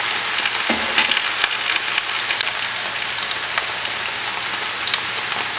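Eggplant and potatoes fry in hot oil for an Indian aloo baingan dish, making a loud, steady, dense sizzle with faint crackles throughout.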